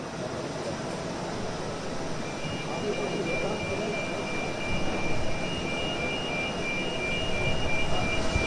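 A jet airplane at Tel Aviv airport gives off a steady, broadband roar that holds at an even loudness for the whole stretch, rising slightly toward the end, with no breaks.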